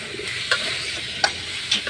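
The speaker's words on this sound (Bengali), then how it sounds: "এখানে মশলা, এটা মাছ, এটা আলু পেঁপে কষানো হচ্ছে" Fish, potato and papaya sautéing with spices in a pan over a leaf-fired stove: a steady soft sizzle with three sharp spatula clinks, no voices.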